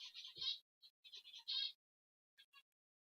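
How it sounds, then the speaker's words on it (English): Pet birds chirping in a room, with bright, high, clipped calls coming in short bursts and gaps of silence between them, fairly quiet. "Yeah, you can hear my birds in the background,"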